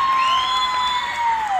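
Crowd at a junior livestock fair show cheering and whooping continuously, loud and close, with a sustained wash of voices and a few high shouts; no distinct clapping stands out.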